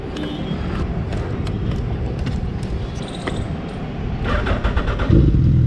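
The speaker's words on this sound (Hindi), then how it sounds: "लो जी, होगी अपनी बाइक स्टार्ट।" A nearby Hayabusa motorcycle engine turns over and catches, idling with a rough mid-pitched rumble that grows louder and revs toward the end.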